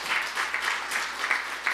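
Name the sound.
congregation applauding in church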